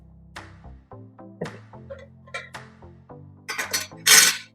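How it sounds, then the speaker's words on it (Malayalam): A mixer grinder blade is fitted onto its jar, producing a series of light metallic clinks and taps that build to a louder rattle near the end, over a faint steady tonal hum, with no talking. "അതേപോലെ തന്നെ മറ്റൊരു ബ്ലേഡാണ് ഇതും കയറ്റിയിടുന്നത്"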